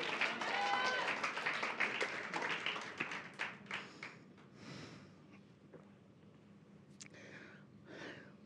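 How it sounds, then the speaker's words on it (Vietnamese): A church congregation at a Vietnamese Sunday service applauds in a dense burst of clapping that thins out and fades over several seconds, with a voice speaking alongside. "Hãy vỗ tay chào đón điều đó từ xa đi quý vị."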